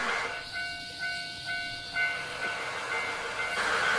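A train pulls into a station in the adventure game Nostalgic Train, a steady rumble and hiss of rolling cars with a high whistle-like tone, fairly close and continuous.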